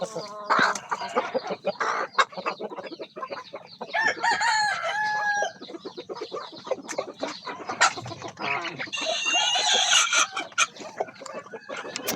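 Backyard chickens cluck busily and a rooster crows loudly nearby, the crow rising mid-clip amid a steady chatter of fowl calls and scattered clucks.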